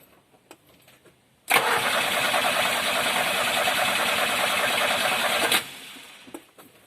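A car engine running on a restored 6.5-year-old battery cranks briefly and then runs steadily at close range for about four seconds before shutting off, with faint clicks before and after.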